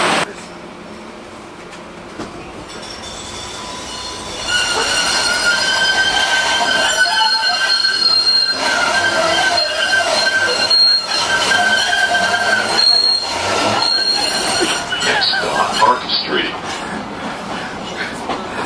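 Steel train wheels squeal loudly near a station on a Boston to Salem rail trip, with high, sustained screeching tones over a continuous rumbling ride and occasional voices in the carriage.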